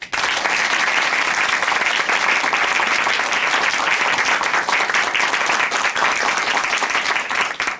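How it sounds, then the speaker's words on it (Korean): Studio audience at a Christian television testimony program giving a full, sustained round of applause, dense and even from start to finish with no talking over it. "오늘 귀한 간증 전해주신 김유진 자매님께 다시 한번 박수 부탁드립니다"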